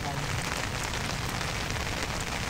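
Rain pattering steadily on surfaces outdoors during a freshwater tilapia fishing session in Bulacan, a soft continuous hiss of drops with no talk over it.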